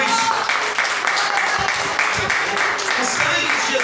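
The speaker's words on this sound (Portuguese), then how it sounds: "Pode aplaudir o nome de Jesus." Church congregation applauding during a sermon, a dense, loud wash of clapping filling the room, steady throughout with voices mixed in.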